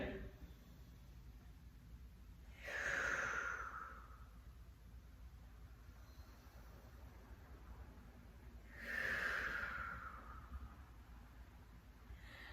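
Two slow, deep breaths are drawn during a humble warrior yoga pose, each a soft, close airy swell several seconds apart over a quiet room hum.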